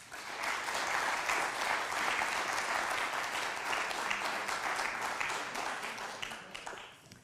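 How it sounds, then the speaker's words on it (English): A crowd applauds warmly, a dense sustained round of clapping from many hands that holds steady and then tapers off near the end. "I just want to give them all a round of applause again"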